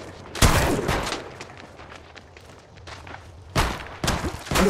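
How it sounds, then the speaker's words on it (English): Bursts of gunfire in Apex Legends Mobile during a Peacekeeper limited-time mode fight, with a loud volley at the start, scattered quieter shots and footsteps through the middle, and two more sharp bursts near the end. "Under fire here"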